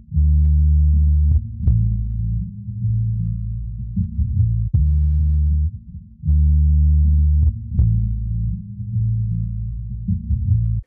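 A boom bap hip hop sample with boosted bass and no drums plays loud and close, with heavy sustained low tones that repeat in a looping pattern, broken by short gaps and faint higher clicks.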